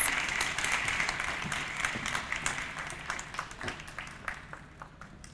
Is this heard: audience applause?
yes